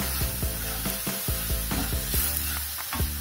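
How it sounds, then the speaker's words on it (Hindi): Whole spices roast in a pan over a low flame, a steady sizzle and hiss broken by repeated scrapes and stirs of a spoon against the metal, close and clear with no talking. "सभी मसालों को लो फ्लेम पर हम अच्छे से भून लेंगे।"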